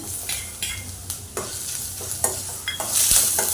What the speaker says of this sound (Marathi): तो चांगला परतून घेऊया चांगला गोल्डन ब्राऊन होईपर्यंत परतून घेऊया